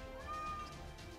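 In the video game Fate/Extella The Umbral Star, a cat gives a single soft, drawn-out meow. It sits over a quiet bed of game music, with no one talking.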